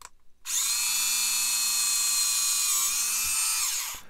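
A small high-pitched drill runs loudly and steadily for about three and a half seconds while boring into a Bandai Star Wars 1/144 AT-AT plastic model kit, then winds down abruptly.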